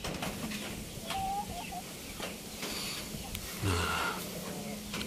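An Indio Gigante chicken clucks softly a few times nearby, with a person speaking briefly alongside and light background noise.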